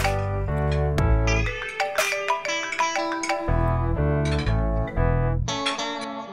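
A mobile phone ringtone plays a bright, synthetic melodic tune with distinct repeating notes, loud and close, alone without voices.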